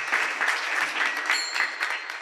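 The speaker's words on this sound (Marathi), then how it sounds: "एकदा साऊंडवाल्या दादासाठी मंडळीसाठी टाळी वाजवा" Audience clapping at a Marathi kirtan, a devotional sermon gathering, sustained and dense crowd applause filling the whole stretch, fairly close and steady with no speech over it.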